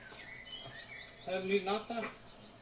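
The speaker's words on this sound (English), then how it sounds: "Love the sound of the birds." Birds chirp and tweet outdoors in Denmark: a few thin calls early on, then a brighter burst of song in the second half, moderately close over quiet background hiss.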